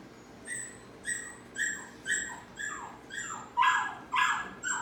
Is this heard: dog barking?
yes